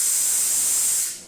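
The steam wand of a CMA espresso machine blasts a steady, loud, close hiss of steam that cuts off sharply after just over a second.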